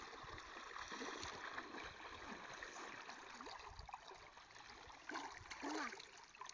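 Steady rushing and gurgling of a flowing river, a continuous broadband wash with occasional splashes, fairly close.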